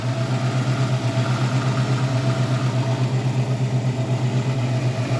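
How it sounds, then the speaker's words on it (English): A 1969 Ford Mustang Grande V8 idling slightly high, a steady low rumble with an even pulsing beat, close and constant with no talking. "Idling a little bit high."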